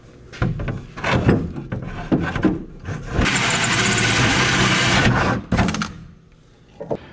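A 1.5-inch hole saw cutting through a carbon fiber panel, a loud sustained grinding whine lasting about two seconds, framed by scraping, knocks and shorter bursts of the drill.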